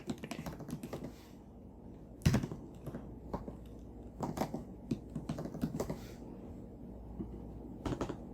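Code is typed on a computer keyboard at close range in irregular bursts of light key clicks, with a few louder key strikes. The pauses between bursts are short and no one speaks.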